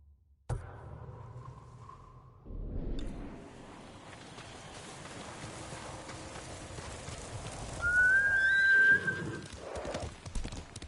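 A horse named Nobu in Ghost of Tsushima trots with a steady clip-clop of hooves and gives a clear rising whinny near the end, over a low game ambience.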